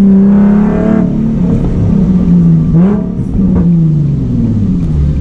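Nissan 370Z engine revving and accelerating up close at night, its pitch climbing through gear changes with some loud crackling pops from the exhaust.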